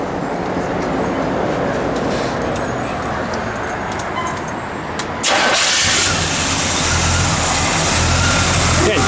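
A 1972 Chevrolet Chevelle SS small-block engine cranks over outdoors in the cold, then catches about halfway through and settles into a loud, steady, rumbling idle, close up, with some talk in the background.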